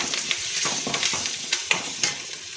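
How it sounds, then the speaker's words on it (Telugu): Curry leaves fry in hot tempering oil, giving a steady crackling sizzle broken by sharp pops and spits, close and fairly loud, with occasional scraping stirs in the pan. "నెక్స్ట్ కరివేపాకు వేసుకోవాలండి."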